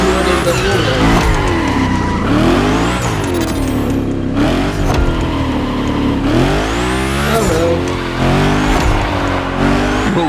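A car slides and drifts through gymkhana runs in a driving game, loud squealing tyres and a revving engine that rise and fall in repeated swells, with brief bursts of acceleration between slides.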